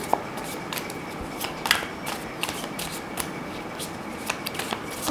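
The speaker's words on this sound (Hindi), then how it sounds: "थोड़े ऑरेकल कार्ड्स आपके लिए मैं और शफल करना चाहती हूँ" Oracle cards are shuffled by hand in a rapid, crisp run of riffles and flicks, close and fairly quiet, with no talking.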